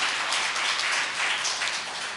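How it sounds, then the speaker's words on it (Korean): Church congregation applauding a Christmas Day choir and ensemble, a steady wash of many hands clapping at moderate volume for about two seconds, with no voices standing out. "우리 글로리아 중창단과 앙상블에게 다시 한번 큰 격려의 박수 드립니다"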